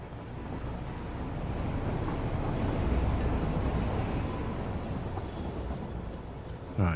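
A train rolls steadily through a factory-building video game, its low continuous rumble and rail clatter holding a constant level for the whole stretch with a brief bump at the very end.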